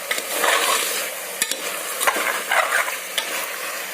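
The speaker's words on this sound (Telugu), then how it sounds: "నూనె అంతా దీనికి పట్టేటట్టు బాగా కలుపుతున్నాను." Country chicken pieces get stirred in hot oil, giving a steady sizzle with scraping spoon strokes and a few sharp clinks against the pan.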